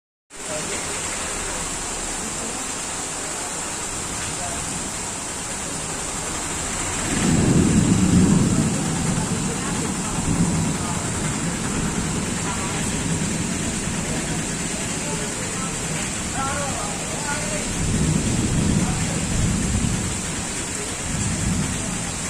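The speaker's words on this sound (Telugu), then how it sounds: "చాలా అంటే చాలా ఉరుములు మెరుపులు, కొంచెం భయం కూడా వేసిందనమాట." Heavy rain pours steadily at night in Vizag while thunder rumbles low and loud, swelling twice in long rolling bursts.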